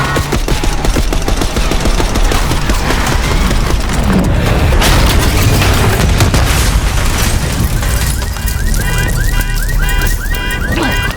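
Call of Duty: Black Ops 6 gunfire rages nonstop: rapid machine-gun bursts layered with booming explosions and whizzing rounds. A loud, unbroken barrage fills the scene, and a rattling stutter of automatic fire takes over toward the end.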